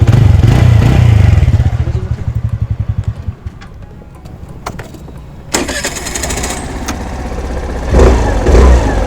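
A Suzuki Avenis or TVS Ntorq Race XP scooter engine running up close, a loud low throbbing idle with a rapid pulsing beat that cuts out, followed by mechanical clatter and a rising rev later on.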